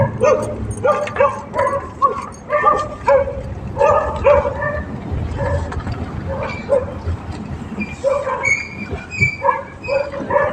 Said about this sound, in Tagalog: May aso na tumatahol sa mabahay ng Kuwaiti.